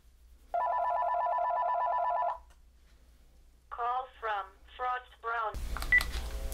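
A phone line rings with a long electronic tone, then after a pause a series of short warbling rings, followed by a burst of noisy static.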